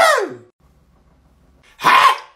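A single short sneeze bursts out at the start, then a quiet gap, then a second sharp sneeze-like burst near the end, close and loud with no speech.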